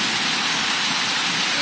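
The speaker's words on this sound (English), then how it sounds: "It is raining bad." Heavy rain pours during a severe thunderstorm in New York City, a loud, dense, unbroken hiss with no pauses or voices.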